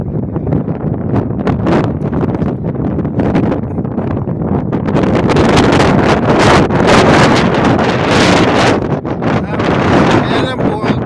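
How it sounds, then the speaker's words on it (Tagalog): Strong wind buffets a handheld phone microphone outdoors in Sydney near the Botanic Garden and harbour, a loud continuous roar with gusts swelling through the middle and a person speaking faintly underneath. "malakas lang po ng hangin."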